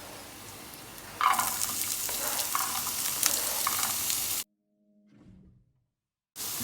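Chopped onion tipped into a pan of chillies frying in oil sets off a loud close sizzle with stirring scrapes, then cuts to near silence with a faint thud before the sizzle returns.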